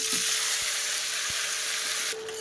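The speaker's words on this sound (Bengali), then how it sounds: "টমেটোগুলো আমি লাল লাল করে একটু ভেজে নেবো" Chopped tomatoes fry in hot oil in a wok with bay leaf and dried chilli, a steady close sizzle with a couple of soft clicks from stirring and a brief shift in tone near the end.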